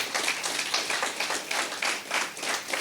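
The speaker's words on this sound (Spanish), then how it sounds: "¿Cuántos aplauden al Señor?" A church congregation claps together in praise, a dense, steady wash of many hands close by, pulsing in rough rhythmic waves without any talk.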